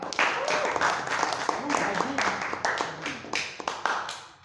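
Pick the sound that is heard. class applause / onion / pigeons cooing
class applause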